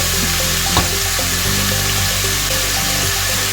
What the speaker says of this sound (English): I'm going to add my soy sauce.